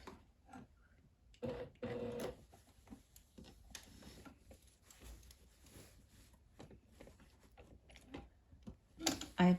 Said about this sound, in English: I'm going to turn it over and sew from the top side